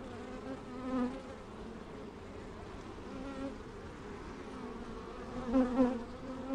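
Honey bees buzz steadily during a springtime beehive inspection, a soft, close swarm hum that swells briefly now and then, with no talking.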